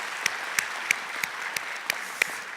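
A church congregation applauds in thanks, a continuous wash of clapping with one near, rhythmic clapper striking evenly about three times a second over the crowd.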